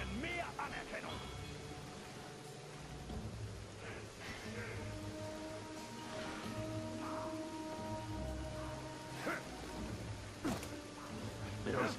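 Steady rain patters in the background of the video game Middle-earth: Shadow of Mordor, with occasional distant rumbles, while voices talk over it.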